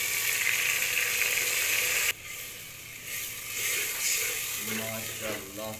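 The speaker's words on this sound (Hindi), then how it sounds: "अब लहसुन अदरक सब मिर्च का पेस्ट ऐड करेंगे" Garlic, ginger and chili paste hitting hot oil with browned onions in a home kitchen, a loud steady sizzle that drops sharply after two seconds into softer frying and stirring, with faint clatter near the end.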